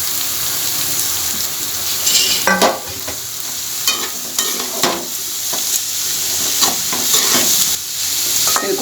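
Raw jackfruit is stirred into sautéed onions in a hot pan, a loud sizzling hiss broken by repeated spatula scrapes and clatters, with no talking.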